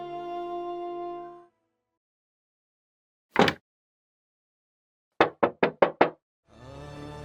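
Knocking on a door comes as one short rap, then after a pause a quick run of five knocks, sharp and close, with a tonal musical sound before and after and no talking.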